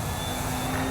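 An XR-52 model airplane flies overhead, its engine giving a steady, even buzzing drone at moderate distance with no voices.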